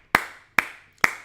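Three sharp hand claps, evenly spaced about half a second apart, close and crisp with short decays and no voices.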